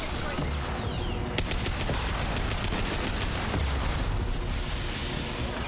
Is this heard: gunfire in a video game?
yes